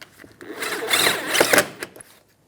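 Screw driven in under the mud flap of a front inner fender liner on a 2010-2016 Cadillac SRX, a short close burst of power-driver whir rising and falling over about two seconds.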